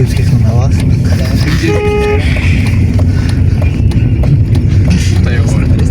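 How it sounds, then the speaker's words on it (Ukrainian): Harnessed horses in a passing column clop along steadily under a constant din, with a horn toot sounding midway and voices talking throughout. "Гарно запряжені коні."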